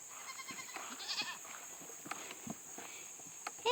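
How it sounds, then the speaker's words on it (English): Baby goats bleating on a farm in hot weather, several faint, quavering cries scattered over soft shuffling and footsteps in an outdoor pen. "Baby goats are getting big."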